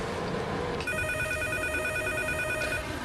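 A telephone rings in an office setting, a clear, steady electronic trill that keeps going for about two seconds over a faint room background, with no talking.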